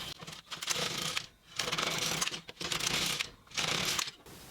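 An LK150 knitting machine knitting rows of a small child's fingerless glove, its carriage making repeated rasping, clattering passes roughly a second long with brief pauses between, close and steady, with no talk.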